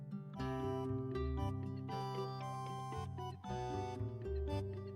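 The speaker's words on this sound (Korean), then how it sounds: "나도 전화가 오는데 누구지?" Ringtone melody from a phone in a Korean story game, a steady tonal tune playing loudly on its own for several seconds with no voices.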